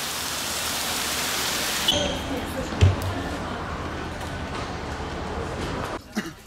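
Torrential rain pours down in Yunnan, China, a loud, steady, dense hiss that fills the whole stretch, heaviest and most rushing at the start, with a brief thump partway through.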